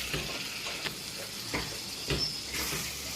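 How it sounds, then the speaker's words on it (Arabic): Alexandrian-style liver frying in a pan, stirred with a utensil: steady sizzle throughout with several distinct scraping stir strokes spaced about half a second apart, close and alone with no talking. "تقليبه كده عشان كلها تتجانس مع بعضها"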